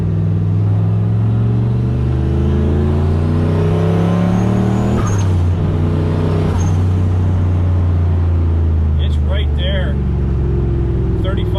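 A loud truck engine pulling hard in third gear after dyno tuning, turbo spooling in, its pitch climbing steadily through the gears with a brief shift partway, droning close by throughout.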